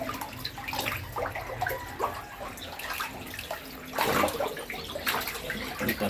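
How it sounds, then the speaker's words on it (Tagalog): Water drains steadily from a catfish pond, a continuous splashing wash with louder gushing surges near the end, close by and with no talking. "Lapit umubos yung tubig."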